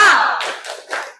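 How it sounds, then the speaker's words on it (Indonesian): A classroom does the tepuk semangat clapping routine, a voice sliding down at the start, then three quick bursts of group clapping close by before it cuts off. "Silakan kita tepuk semangat dulu."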